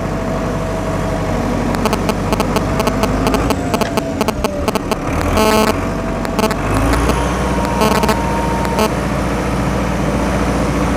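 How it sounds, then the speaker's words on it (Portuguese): Agrale-Deutz 4.110 factory-turbo tractor engine running steadily at close range, a deep continuous rumble with irregular mechanical clatter and short bursts of rattling noise, heard alone without talk. "Tem é um roncão filé, é um trator bem macio para trabalhar."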